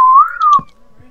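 A single loud, close whistle that rises slightly then falls, held for about half a second before a soft thump and quiet.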